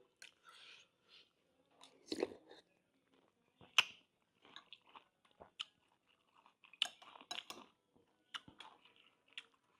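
Crispy fried yellow noodles in gravy are chewed close up, with loud irregular crunches and wet bites at a relaxed pace, faint and intimate against a quiet background.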